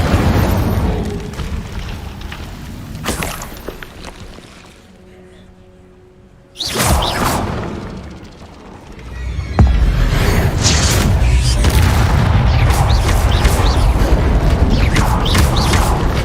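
Fiery spell bursts in the Hogwarts Legacy game: a loud whooshing blast at about seven seconds, a quiet gap before it, then a sustained roaring rush of flame and rumble running to the end.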